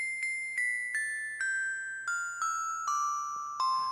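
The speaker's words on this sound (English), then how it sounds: "Let's say I want piano and bells up here." A keyboard plays a layered piano-and-bells sound: eight bright, ringing single notes struck one after another in a steady descending run, each chime decaying before the next, clear and alone.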